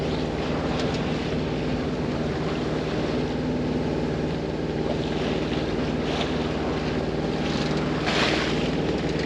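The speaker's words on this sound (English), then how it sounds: "Engines have started. They're real mellow right now." A steady, low mechanical drone of sailboat engines idling mellowly under wind and rushing water in the Hauraki Gulf, continuous and fairly loud throughout.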